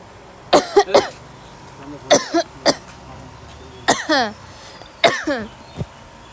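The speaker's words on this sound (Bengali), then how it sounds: "প্রচণ্ড কাশি হইতেছে" Severe coughing fits come close and loud in four or five separate bursts of two or three harsh coughs each, with quiet gaps between them.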